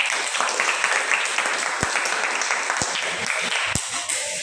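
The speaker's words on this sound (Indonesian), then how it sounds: "Tepuk tangan untuk semua." A class of students applauds during a school lesson, the clapping steady and fairly close, with a few louder individual claps standing out.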